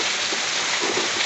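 Steady, dense hiss of heavy rain pouring down in Olinda, Pernambuco, loud and continuous with no pauses.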